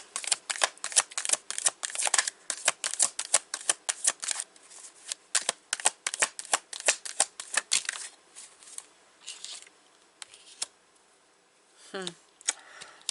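A deck of tarot cards is shuffled in rapid, crisp riffles and slaps that run for several seconds, thin out near the end, and are briefly joined by a voice.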